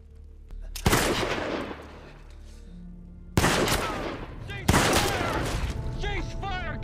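Bursts of rifle and machine-gun fire from a war drama set in the Pacific during the battle of Okinawa, heavy volleys erupting three times, loud and close, with shouting voices mixed into the gunfire.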